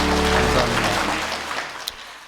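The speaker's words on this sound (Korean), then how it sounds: "우리 박수하겠습니다." A church congregation at a Korean Sunday service applauding together: a dense wash of clapping that gradually thins and fades out over low, sustained background tones.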